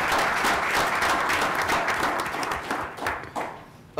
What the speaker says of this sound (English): And a round of applause for all those generous folks.